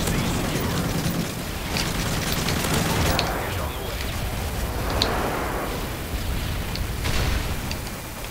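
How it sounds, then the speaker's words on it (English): Airstrike explosions in Modern Warfare 3, a dense run of booms and crackling blasts with gunfire rolling on continuously at close range, with some voice in the mix. "airstrike on the way"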